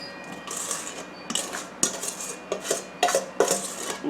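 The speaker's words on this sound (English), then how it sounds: "So now we're going to put our sliced apples" Sliced apples dropped into a pan for caramel apple crisp, a series of close clattering knocks and scrapes against the metal in uneven bursts, with no talking.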